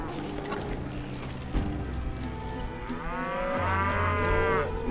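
A cow in the video game Call of Juarez: Gunslinger gives a long, drawn-out moo with a rising, wavering tone, heard clearly over a busy background of ambient noise.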